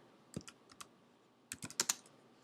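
A computer keyboard is typed on in two short bursts of soft, close key clicks, a few scattered taps followed by a quicker cluster, in an otherwise quiet room.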